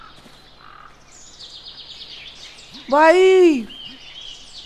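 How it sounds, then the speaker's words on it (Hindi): A bird in the survival game ARK calls with a few loud, clear whistled chirps near the middle, over a soft ambient bed; someone speaks briefly before it. "देखो चिड़ियों की आवाज है"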